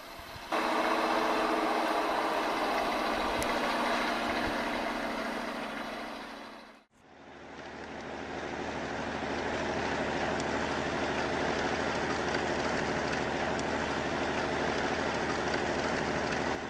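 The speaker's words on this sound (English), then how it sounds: "The D470 snowblower based on the ZIL 157 engine is really effective in winter in region." A ZIL 157-based D470 snowblower truck runs with a steady, loud broadband mechanical roar. The sound briefly dips around the middle before resuming at a constant level, with no talk.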